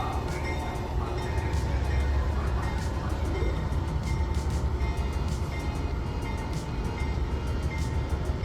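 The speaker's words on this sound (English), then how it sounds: "our locomotives powering up and hauling us down to our final 2 stops of Hollywood and Miami" Amtrak Silver Star train on the final stretch to Hollywood and Miami, its locomotives powering up as it departs: a steady, loud rumble of engines and rolling wagons with constant low drone and faint high rail squeals throughout.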